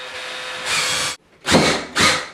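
Power drill driving screws into the sides of a bathroom vanity light fixture box, three loud close whirring bursts with a short quiet gap between them.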